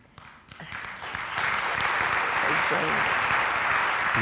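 An audience at a Broadway talk with George C. Wolfe breaks into applause that starts thin and swells within about a second into steady, dense clapping, sustained loud to the end.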